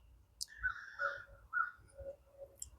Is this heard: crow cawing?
yes